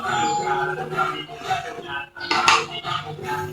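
Banana cake batter mixed in a bowl makes light, irregular clinking and scraping of utensil against bowl, close and fairly steady, with a voice partly over it.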